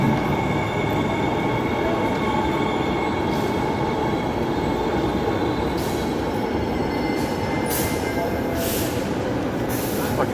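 Perth suburban train pulling into a station on the Midland line, a steady loud rumble of wheels on track with faint squeals and brief hissing bursts near the end, no voices.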